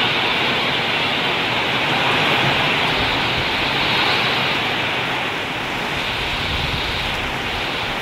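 Heavy rain from a typhoon drums on a corrugated metal roof in a dense, loud roar that swells and eases slightly, with no talking.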